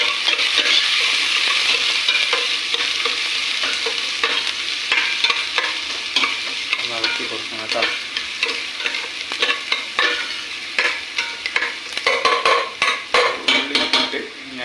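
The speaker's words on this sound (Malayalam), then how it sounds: "ഒന്ന് ഇളക്കി കൊടുക്കണം എന്നിട്ട് അടച്ച് വയ്ക്കുക" Onions frying for a sardine curry are stirred in a hot pan, a continuous loud sizzle under repeated scraping and clinking of a utensil against the pan that grows sharper and more rhythmic toward the end.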